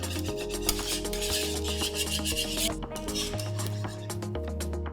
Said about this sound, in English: now I'm just going to mix this in until it's nice and incorporated